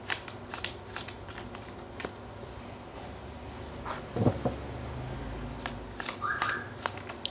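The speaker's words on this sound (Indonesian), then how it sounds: "terutama ketika aku shuffle kartu ini" Tarot cards being shuffled, a soft papery riffle and flutter of the deck in hand, close and fairly quiet, with a few brief taps and a fuller burst of shuffling midway.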